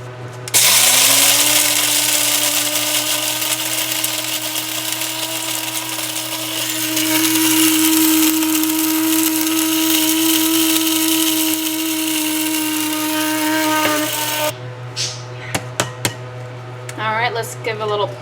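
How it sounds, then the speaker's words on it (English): Kitchen blender grinding whole peppercorns for homemade sazon seasoning, a loud steady motor whine with rattling grit that runs for about fourteen seconds, then cuts off into a few clicks and knocks. "We're going to just throw them in, let her rip for a couple of minutes, and then we should have a nice fine ground peppercorn seasoning"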